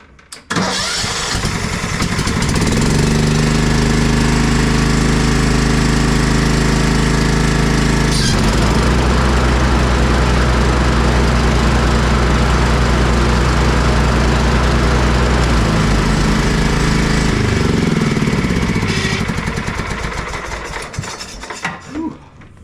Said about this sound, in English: crank this thing up and engage the blades and let y'all watch